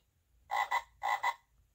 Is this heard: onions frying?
no